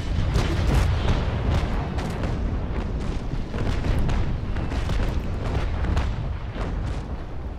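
Ship cannons firing in the naval combat game Naval Action during a large fleet battle with the Bellona, a dense barrage of booming shots rolling continuously and loudly with no speech.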